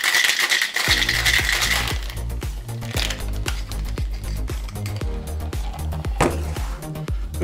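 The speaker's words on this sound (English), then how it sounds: "give her a quick shake" Ice rattling hard inside a cocktail shaker for a smoked turkey cocktail, a steady loud clatter of rapid shakes sustained throughout with no talking.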